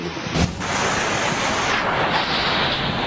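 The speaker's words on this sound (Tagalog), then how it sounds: "makikita sa video ang pagbagsik ng hangin at ulan." Strong typhoon wind roars in a dense, continuous rush with a hiss of heavy rain beneath it, loud and unbroken throughout, in Catanduanes.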